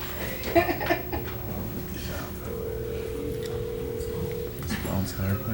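A phone is being dialed during a city council meeting, heard as a steady tone lasting about two seconds that sits under background chatter and voices in a room.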